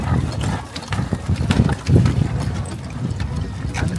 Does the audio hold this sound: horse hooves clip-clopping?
yes